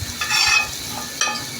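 Fish roe is stirred into spice paste frying in a pan, giving a soft scraping stir and sizzle with a couple of brief spoon strokes, close and moderately loud.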